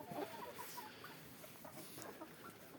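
Hens in a coop cluck softly in short, scattered bursts after being fed, with steady outdoor background noise throughout.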